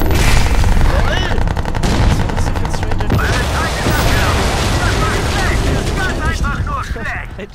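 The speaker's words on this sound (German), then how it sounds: "Ein Schuss durch die Mülltonne in den Kopf" Rapid bursts of Crysis 2 gunfire crackle densely throughout, with sharp shots and metallic impacts from a shot through a trash can, layered over a busy, loud background.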